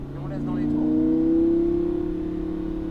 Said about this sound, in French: Et on va rester en 4 et laisser le moteur monter dans les tours pour voir, d'accord?